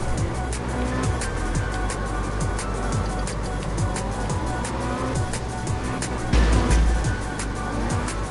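Engine drone and tire screech from a car drifting in circles in the video game Absolute Drift, steady and continuous with brief squeals and a louder burst near the end.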